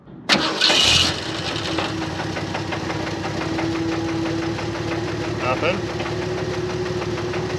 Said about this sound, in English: I've got a line coming straight off the pump and the carb's full of gas, so it should run for a few seconds.